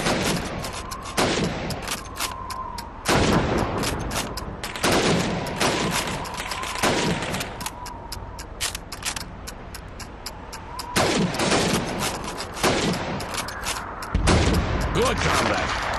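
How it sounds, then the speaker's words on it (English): Rapid rifle shots crack out in quick bursts during a timed helmet-shooting drill at Red Army training in Call of Duty 2, loud and close, with a faint tone and short pauses between volleys. "You have 15 seconds to shoot the helmets."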